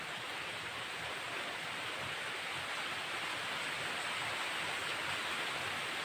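Steady heavy rainfall outdoors, a loud, unbroken wash of broadband hiss lasting throughout, with no talking and no distinct individual drops standing out.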